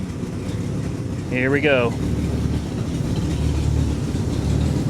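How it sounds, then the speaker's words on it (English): A 1991 Mercury Cougar with a failing head gasket runs roughly as it backs up, its low engine rumble continuous and close. Someone speaks briefly over it. "I'm going to back the car up"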